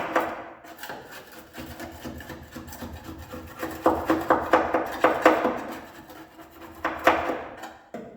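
A scraper rasps silicone sealant off a painted car part in rhythmic, close, fairly loud scraping strokes that speed up and grow stronger midway.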